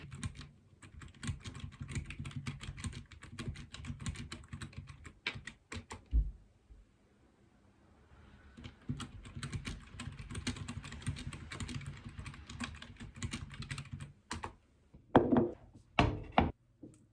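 Computer keyboard typing in close-up, quick uneven bursts of clicking keystrokes with a short quiet pause midway, then more typing ending with a few louder knocks.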